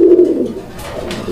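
Raj-golla pigeon cooing close by, a low, rounded coo carrying through the opening half second and then fading into softer murmuring calls alone.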